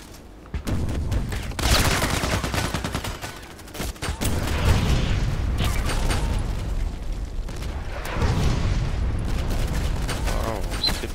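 Booming blasts and heavy gunfire from the online shooter Contract Wars, with incoming mortar rounds landing amid a dense, continuous fusillade that stays loud throughout.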